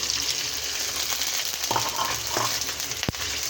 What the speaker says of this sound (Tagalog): isusunod natin yung tofu kasi brown na yung ating bawang